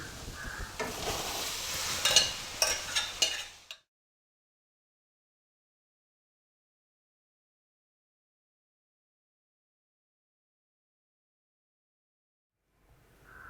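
Ponnanganni spinach and moong dal stirred and fried in oil in a pan, a few seconds of close sizzling and scraping, then silence.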